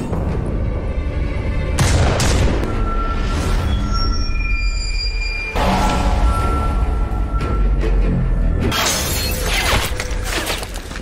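Sniper rifle shots in a war film land as loud, booming reports at a few separate moments over a continuous dramatic soundtrack.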